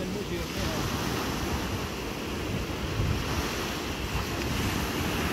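Sea waves wash steadily onto the beach at Saidia, a continuous broadband roar of surf mixed with wind buffeting the microphone, with no clear breaks and no speech.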